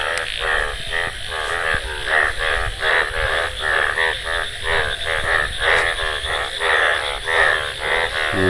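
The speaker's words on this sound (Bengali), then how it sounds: "অবশ্য বৃষ্টির পরে ব্যাঙ্গের শব্দটা সেই লাগে" A dense chorus of frogs croaks loudly and continuously around a village pond after rain, the rapid pulsing calls overlapping in a close, rhythmic drone.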